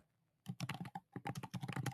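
Close computer keyboard typing clatters in two quick bursts of rapid clicks separated by a short pause, with no voices.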